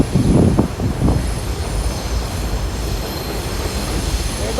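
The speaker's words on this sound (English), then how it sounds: "There go the street train." A street train rolls past in Jamaica on Independence Day, a steady loud rumble of rail wheels with a few sharp clanks near the start, continuing without talk.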